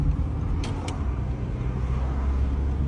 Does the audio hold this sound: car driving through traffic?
yes